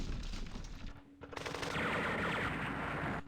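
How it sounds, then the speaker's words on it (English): Artillery and gunfire in the wargame Campaign Series Rising Sun: loud, rapid rattling bursts and booms with a short lull in the middle before another dense, sustained volley. "Jeez, the artillery is brutal."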